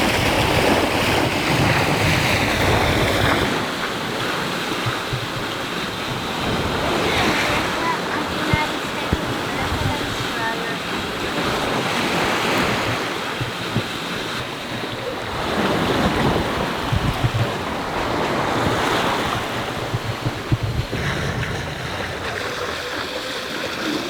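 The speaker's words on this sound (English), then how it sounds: "The wind's a little finicky around here" Wind rushes over open sea aboard a sailboat flying a spinnaker, a constant buffeting blow mixed with wave wash against the hull, gusting up and down in waves, with no voices.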